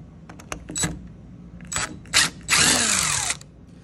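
A power drill backs out two screws from an Andersen door handle during a lock actuator replacement, running in short whirring bursts and then one longer winding-down spin, all close by with no talk.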